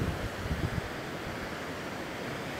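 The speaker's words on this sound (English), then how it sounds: "But I love the waves, the sound of the waves." Ocean waves wash steadily onto a long sandy beach at Sambava, Madagascar, giving a continuous broad roar of surf with a slight swell near the start and no voices.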